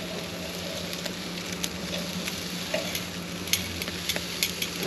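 A coffee-rubbed ribeye steak sizzles in a pan after flipping, a steady close frying hiss with scattered small pops and crackles throughout, no talking.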